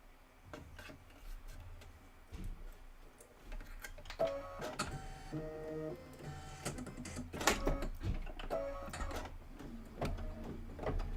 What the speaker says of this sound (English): we're just going to do the satin stitching